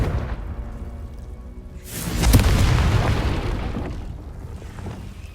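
A Confringo fire-blast spell explodes in the Hogwarts Legacy video game. A sudden loud whooshing boom swells, then slowly rumbles away, with a brief softer swish near the end.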